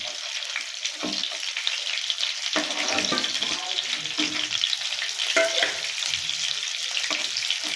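Pieces of katla fish frying in a pan of oil, a close, busy sizzle with crackles and occasional scraping as the pieces are turned, no voices.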